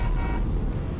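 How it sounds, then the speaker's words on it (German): A car horn honks in the Battlefield Hardline game, a brief tonal toot in the first half over steady engine and road rumble. "Hast du gerade gehupt?"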